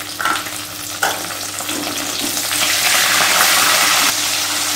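Dried red chillies and cashews fry in hot oil, a close, bright sizzle that rises after a couple of stirring clatters and then holds steady.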